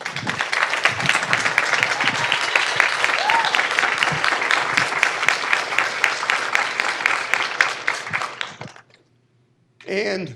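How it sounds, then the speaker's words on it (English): Audience applause for graduates at a PsyD pinning and hooding ceremony, sustained crowd clapping for about nine seconds that dies away, then a brief burst of a voice over the PA. "Once again, a round of applause for our graduates."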